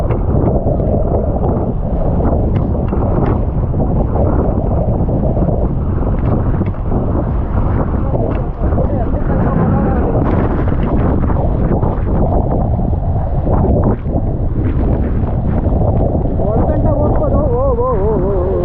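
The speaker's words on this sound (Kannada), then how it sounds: "ಗಾಳಿ ಬೀಸ್ತಿದೆ ಈ ಕಡೆಯಿಂದ." Strong gusts at Nanemachi waterfall batter the microphone in a loud, continuous roar, with spray and falling water mixed in and people talking over the din.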